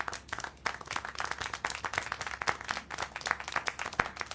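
A small crowd applauds in the video game Syberia: The World Before: a lively patter of irregular hand claps, fairly close and moderately loud, continuing steadily without voices.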